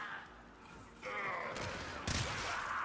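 Weapons fire in the video game Warframe, from guns that burn through ammo fast, comes as faint, quiet bursts of rapid shots rising over a low background hum.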